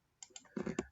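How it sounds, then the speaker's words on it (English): A computer mouse gives a few sharp, close clicks in quick succession, small and crisp in a quiet room with no talk. "and I double click"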